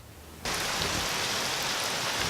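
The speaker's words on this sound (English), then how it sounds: "It's been raining like crazy for about 2 days." Heavy rain outdoors after two days of downpour, a sudden steady hiss of falling drops that starts abruptly and continues loud and even without pause.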